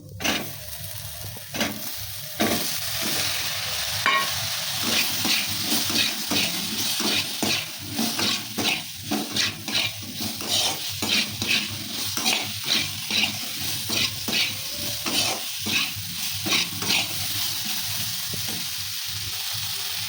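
Cut potatoes with onion, salt and turmeric sauté in a pan, a spatula scraping and stirring in quick repeated strokes over a continuous close sizzle throughout.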